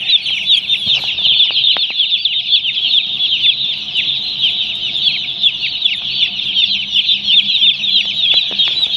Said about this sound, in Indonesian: ayamnya aktif kayak gini mah normal nih